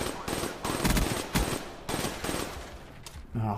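Video game gunfire in several short bursts separated by gaps, moderately loud and close, with no talking during the shots.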